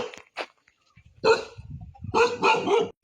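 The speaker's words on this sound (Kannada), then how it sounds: "ಯಾವ ಥರ ಬೊಗಳಕತ್ತೈತಿ ನೋಡಿದ. ಏಯ್ ನಾಯಿ ಚುಪ್" A village dog barks several times, a couple of short isolated barks then a close, loud burst of repeated barks near the end, with little else around.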